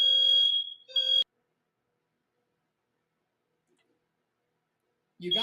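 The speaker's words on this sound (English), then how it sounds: "the alarm went off" Apartment smoke alarm going off in two loud, piercing electronic beeps, then a long silence before it starts sounding again at the end.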